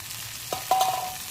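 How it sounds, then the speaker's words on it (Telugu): Chicken pieces hit hot oil in a pan for curry, letting out a close, bright sizzle with a few stirring scrapes as frying picks up. "వేగిపోయింది ఫ్రెండ్స్, చికెన్ వేస్తున్నాం."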